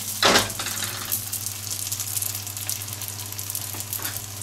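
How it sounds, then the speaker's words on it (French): Almond cigar pastries fry in hot oil with a dense, continuous sizzle. A brief louder clatter comes near the start, then a few faint taps from turning them in the pan. "donc ça à frire quelques secondes"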